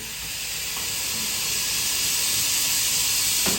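A CRM3026 espresso machine, a dual-boiler, two-pump model, hisses steadily from its steam wand for several seconds, loud and continuous with no talk over it.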